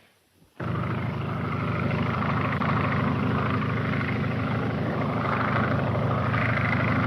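Old aircraft engine droning steadily as the plane approaches to land, starting abruptly and holding a loud, even roar throughout.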